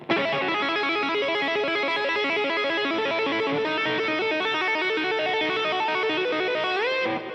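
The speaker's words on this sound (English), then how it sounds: "if you really crank the distortion" Electric guitar played through heavy distortion, a loud continuous wall of saturated notes shifting in quick stepped runs, with a bending slide near the end before it cuts off.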